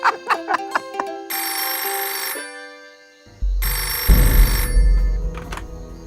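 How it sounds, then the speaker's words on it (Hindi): Telephone rings in an indoor drama scene: a series of quick electronic tones, then sustained loud ringing bursts separated by a short pause, with a low thump in between and no voices. "आपके लिए फोन है सर।"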